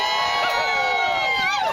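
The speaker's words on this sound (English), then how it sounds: "Let's have another cheer for us." A crowd at a protest rally cheers and shouts in a loud, continuous mass of voices, with whoops rising above the roar throughout.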